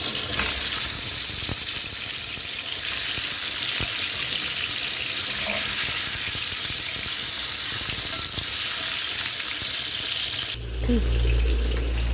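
Pointed gourd frying with spices in a pan, giving a steady close sizzle throughout with faint stirring and a brief clatter near the end.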